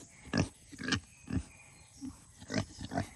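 A pig grunts close by in a short series of about six snorting, rough bursts spaced irregularly, fairly quiet overall with no talking.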